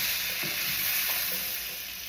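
Butternut squash cubes sauté and brown in a pan with a steady, close, bright sizzle that holds evenly throughout, no voices over it.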